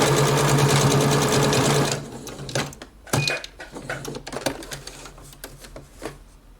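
A sewing machine stitches a blouse sleeve seam in a fast, continuous whirring run for about two seconds, then stops, followed by quieter clicks and handling noises.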